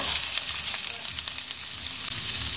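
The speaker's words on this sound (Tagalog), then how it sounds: "Lagyan na natin itong sibuyas." Onion dropped into a pan of browned garlic frying in oil: a steady, bright sizzle with faint crackles, close and continuous, with no talking.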